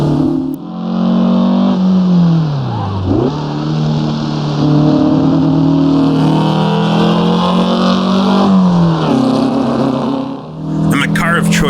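Porsche 912 engine in the racing game Assetto Corsa, a steady loud flat-four drone that revs up and down through gear changes, with a voice talking over it throughout.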